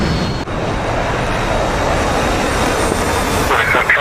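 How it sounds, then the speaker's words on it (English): Jet aircraft engines in the DCS flight simulator game during a reenactment of the 1998 Desert Fox bombing mission, a loud, steady engine roar that fills the whole stretch, with a brief dip early on and a little added noise near the end. "Turn your engines off so I can hear myself think."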